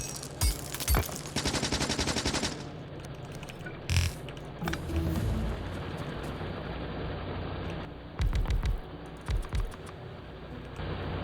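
Gunfire in the game Factorio as a rock is shot at: rapid bursts of automatic shots in several short clusters, separated by stretches of mechanical background hum and occasional keyboard clicks.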